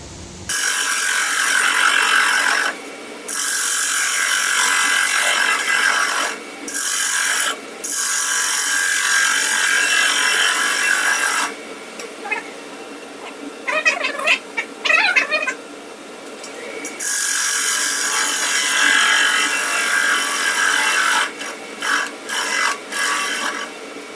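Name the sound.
wood being turned on a lathe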